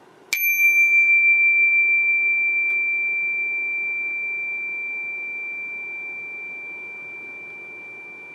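A mid-sized meditation chime is struck once, giving a bright, clean metallic ring that sustains and slowly fades over several seconds, alone in a quiet room.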